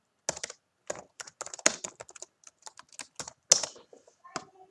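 Computer keyboard keys clatter in quick irregular bursts with short pauses as commands are typed into a Cisco switch terminal, crisp and close with no talking.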